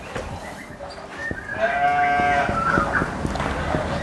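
Fullblood Dorper sheep bleating, a drawn-out tonal call rising mid-clip over a noisy farm background with scattered clicks, fairly close and moderately loud.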